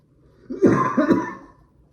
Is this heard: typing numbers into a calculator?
no